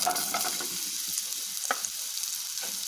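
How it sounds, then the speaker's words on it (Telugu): Ridge gourd pieces frying in a little oil in a pan, with a continuous loud sizzle and occasional stirring scrapes close up. "అదే ప్యాన్లో కొద్దిగా ఆయిల్ వేసుకున్నాం బీరకాయ ముక్కలు"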